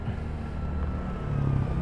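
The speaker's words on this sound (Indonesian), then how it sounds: "Wah, dia pakai knalpot. Knalpot brong." A motorcycle with a loud, open 'brong' exhaust passes on a rural road near the Jragung reservoir. Its low engine rumble sits under wind noise at moderate distance and swells slightly toward the end.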